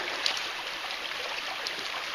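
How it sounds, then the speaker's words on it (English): A stream flows steadily along a hiking loop as a hiker crosses, a continuous broadband rush of moving water close by, with faint footsteps or splashes and no talking. "Okay, here we go across the water again."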